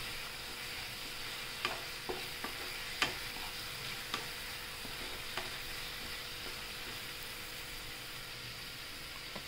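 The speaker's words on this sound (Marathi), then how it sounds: "हळद टाकूया आणि परत एकदा हलवून घेऊ" Radish bhaji with green chili, garlic paste and turmeric being stirred in a pan, a soft steady sizzle with a few light scraping clicks of the spoon, quiet and close, no voices.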